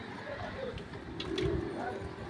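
Pet pigeons coo softly before being released to fly, low murmuring calls heard close by, with a person talking over them.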